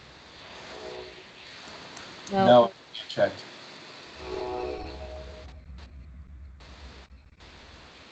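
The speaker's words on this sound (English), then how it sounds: "These trains are like zipping through there tonight." Trains pass outside at night, a distant horn sounding in short bursts and a low rumble building afterward, heard faintly from indoors beneath a few spoken words.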